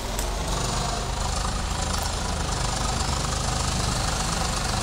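A Swaraj 855 tractor engine in Farming Simulator 22 drones steadily and loudly, with a low, knocking idle rumble that stays constant throughout and has no talk over it.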